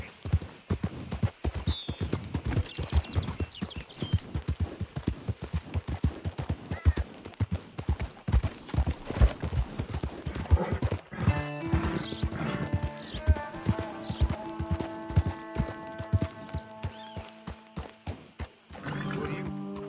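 A horse gallops in Red Dead Redemption 2, hooves pounding in a fast, steady rhythm close by, with a whinny partway through and music swelling underneath toward the end.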